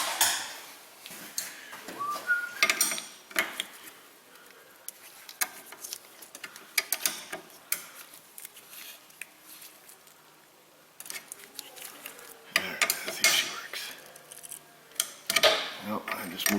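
A wrench clicks and clinks on the nuts of a corroded rear A/C line stud on a Kia Sedona, in scattered metallic taps and scrapes with someone talking intermittently.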